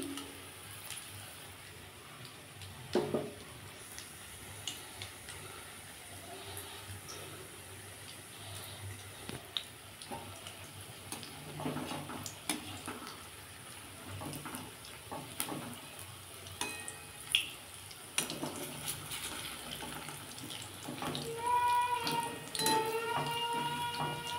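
Pakoras of pui mituli and cabbage frying in hot oil on a low flame, a continuous soft sizzle with occasional bubbling bursts and faint utensil clinks, growing livelier toward the end, with no voices.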